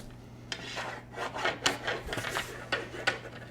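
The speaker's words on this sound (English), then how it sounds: "they're gonna run the fish stick up here in the wall" An electrician's fish stick is pushed up inside a wall cavity between studs while running a circuit to new garage outlets. It makes a series of faint, irregular scraping and rubbing knocks, muffled behind the wall.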